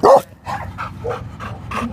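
A dog at a city animal shelter barks in a series of sharp, close barks, about six in quick succession, with kennel noise faintly behind.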